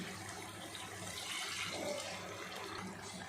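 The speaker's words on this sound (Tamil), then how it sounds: "இப்போ மூணு டம்ளர் தண்ணி ஊற்ற போகிறோம்" Three tumblers of water are poured into a cooking pot of tempered whole spices for mutton biryani, a faint, steady splashing flow lasting a few seconds without talk.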